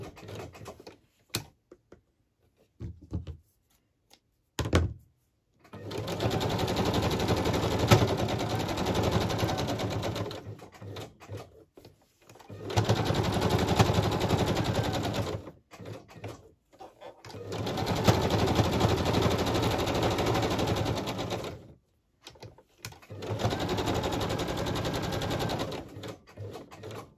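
A sewing machine stitches around a small fabric tag in several sustained bursts of rapid, even mechanical clatter, separated by short quiet pauses and a few faint handling clicks.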